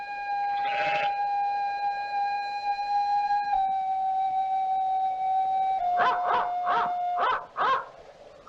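Dogs bark in a short burst at the start and again in a quick series of barks near the end, close and fairly loud, while a steady tone hums underneath.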